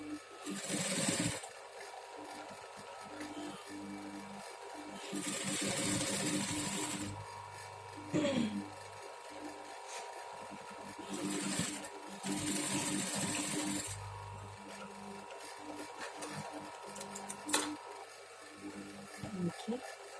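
Sewing machine stitching small fabric blocks together, running in several steady motor-and-needle bursts with brief stops, close and moderately loud, while someone speaks in between.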